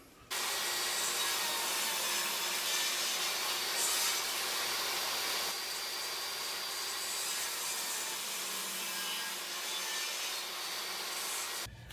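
A drill bores at a 45 degree angle through wood into a wall stud in a corner during a floating desk build, making a steady grinding, rubbing whir that lasts about eleven seconds before stopping abruptly.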